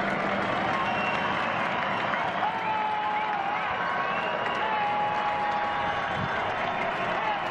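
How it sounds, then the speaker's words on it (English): Home crowd at a college football game between Maine and Northern Illinois roaring on a big third down, a dense, steady wall of cheering and clapping that stays loud throughout, with faint talk buried beneath. "This hometown crowd comes to life on a big third down."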